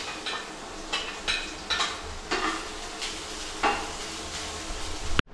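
Onions frying in a pan for noodles, with repeated soft scraping and stirring strokes over a steady low sizzle, close by with no talk.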